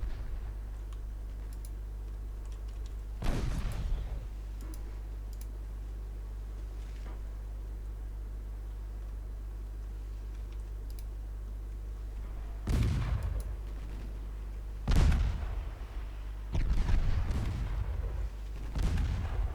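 Naval gun salvos in a ship battle strategy game boom sharply at intervals over a low constant engine drone, several separate heavy blasts with light clicking between them.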